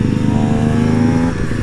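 An Aprilia SX-125 two-stroke supermoto motorcycle engine holds a steady, loud, buzzy drone close by, its pitch rising slightly before easing off near the end, with no talking.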